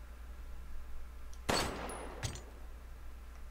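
A single gunshot fired in Resident Evil Village, a sharp broadband crack followed about three-quarters of a second later by a weaker second report, standing out alone against a quiet, low ambient hum.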